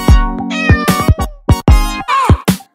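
A rapid run of loud, close meows, roughly eight in a row with short gaps, in a rhythmic, sung-like sequence with no talking.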